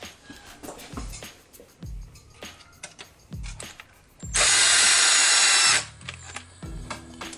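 A power drill driving screws into wood on its lowest torque setting, giving repeated short whirring bursts with clicking clutch ratchets, then one long steady high-pitched run of about a second and a half, all close up and loud.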